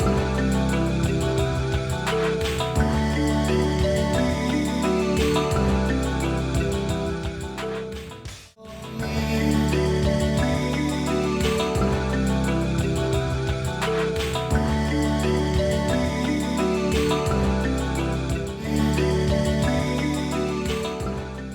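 A pitch-shifted sung sample from a Fairlight sampler, heard within a song as dense, steady music with sustained harmonic tones. It plays loud and continuous, with one brief dip near the middle.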